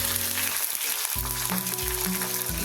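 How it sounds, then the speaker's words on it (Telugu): Oil sizzling steadily in a hot kadai, a bright continuous crackle with low tonal hum layered beneath, close and alone without speech. "కడాయి పెట్టేసుకొని ఆయిల్ హీట్ ఎక్కనివ్వండి."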